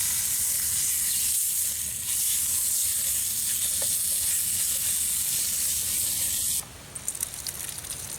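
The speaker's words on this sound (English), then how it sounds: "Nothing like a little sizzling and the smell of bacon in the morning" Bacon frying in a pan at a camp cook setup, a steady loud hissing sizzle running throughout with no talk, easing slightly near the end.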